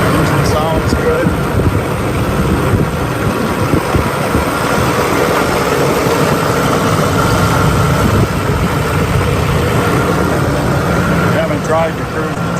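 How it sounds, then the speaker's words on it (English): A muscle car engine idles with a steady, rough rumble throughout, loud and close, with faint background noise and no break in the sound. "Engine sounds good."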